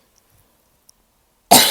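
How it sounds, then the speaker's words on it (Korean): A single sudden, loud, close cough bursts out of near silence at the very end. "갑자기 기침이 나왔어요."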